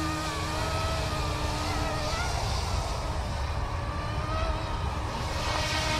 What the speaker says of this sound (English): very good flying scale helicopter.